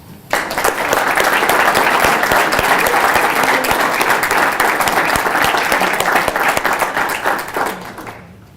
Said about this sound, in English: please feel free to applaud after each name